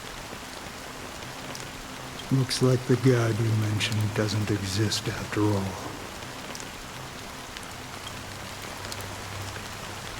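Steady rain falls in Honkai: Star Rail as a soft, even hiss through the whole scene, running alone at first and then continuing beneath someone speaking calmly in the middle.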